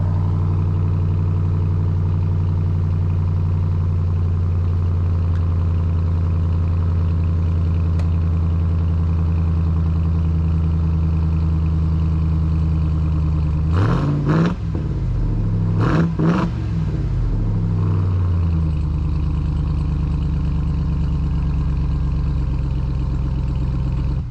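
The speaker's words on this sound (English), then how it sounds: "you can hear me rev it for a second" A car engine idles steadily after a mild cold start, then gets two quick, sharp revs in close succession before settling back to a smooth, close idle, with no speech.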